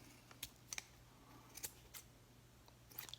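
Several quick snips from a pair of pink-handled scissors trimming, scattered sharp clicks spaced irregularly over a faint steady hum, close and quiet with no talking.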